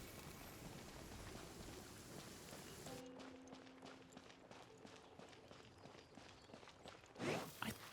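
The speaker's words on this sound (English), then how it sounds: "Oh no! Out of the rain." In Genshin Impact, rain falls as a dense steady hiss, then thins to a softer patter with scattered drops and a brief louder rustle near the end.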